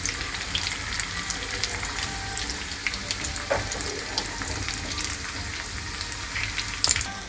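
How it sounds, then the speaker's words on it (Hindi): Soybean seekh kebabs fry in hot oil with a steady, continuous sizzle and faint crackle, close and even throughout, with no one talking over it. "इसे तल लेंगे।"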